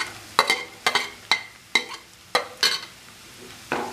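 Carrots sautéed in a pan for betel leaf rice, stirred with about eight sharp, evenly spaced scraping strokes over a soft background sizzle.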